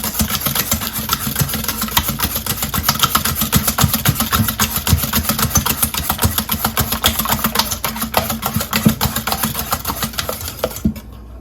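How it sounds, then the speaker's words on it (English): Eggs and brown sugar for a pecan pie are beaten with a rapid, steady rhythmic whirring and clicking that carries on continuously and loudly, with no talking, until it stops just before the end. "now we're gonna whisk this until it's dissolved and the eggs are fully beaten"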